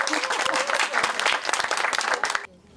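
A seated audience gives a soldier a warm round of applause at a finance and career event. The dense clapping is close and steady for about two and a half seconds, then stops abruptly.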